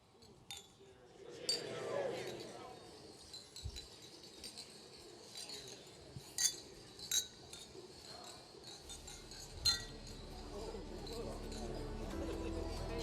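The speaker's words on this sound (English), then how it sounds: "So let's raise a glass to Sister Carol." Glasses clink during a toast at an awards banquet, with scattered sharp chinks and rattles throughout a room full of chatter and murmuring voices.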